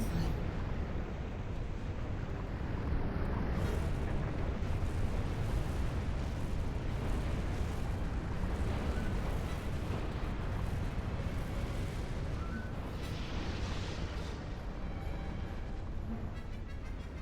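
Gunfire and explosions from an online space battle game, a dense continuous barrage of booms and bursts rumbling loudly and steadily throughout with no quiet gaps.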